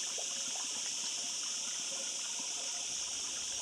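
Spring water trickles steadily from a small tap fed straight from a mountain in rural Spain, a constant close hiss with no pauses and no one talking.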